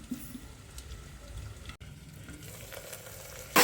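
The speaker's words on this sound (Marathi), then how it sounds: "कच्चे शेंगदाणे टाकल्यावरती त्याला छानपैकी हलवून घ्यायचं आता एक पाच मिनटं आणि त्याला छानपैकी फ्राय होऊ देऊ" Raw peanuts frying in a pot, a faint steady sizzle with light stirring scrapes, ending in a brief louder clatter.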